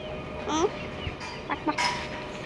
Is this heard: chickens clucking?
yes